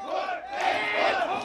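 Large crowd at a Korean high school alumni family festival concert chanting and shouting together in two loud bursts, a rousing call for an encore from the guest singer.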